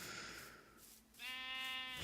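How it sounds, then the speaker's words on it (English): A sheep wearing a hat bleats in a Minecraft modpack game, one long, steady, nasal bleat rising clearly out of quiet ambient game sound in the second half. "It's a sheep with a hat."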